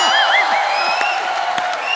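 A studio audience on a comedy talk show applauds and cheers to welcome guests Sonakshi Sinha and John Abraham, with a steady wash of clapping under high whoops and shouts.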